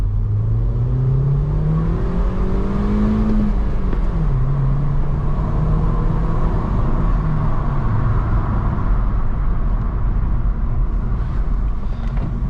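A BMW F21 1 Series engine drones steadily from inside the car while driving, its pitch rising and then dipping as it shifts through a revving stretch, with a constant road rumble and no talking.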